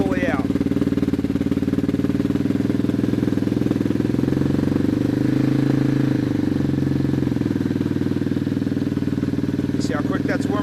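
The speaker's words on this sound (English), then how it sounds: "Just pull the choke out here, turn the ignition on. So that's with the choke fully out." A 2015 Yamaha TTR 230 motorcycle with its choke fully out runs at a steady, fast-ticking idle, close and loud throughout, with slight wavering in engine tone.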